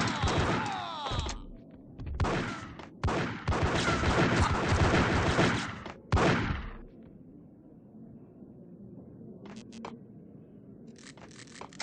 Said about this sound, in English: There, gun him down!